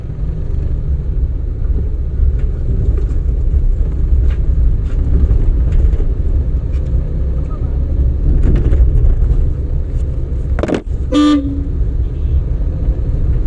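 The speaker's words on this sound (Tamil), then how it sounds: "டக்குன்னு பிரேக்கை விட்டுட்டு கிளச்சை விட்டு வண்டி போகும்." A driving-school car pulling away as the brake and clutch are released: a steady, close engine rumble runs throughout, with a sharp horn-like toot near the end.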